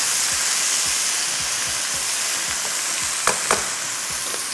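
Chicken hara masala sizzles steadily in a hot pan, a constant frying hiss with soft scraping stir strokes and a couple of sharper clinks near the end, close and alone without talk.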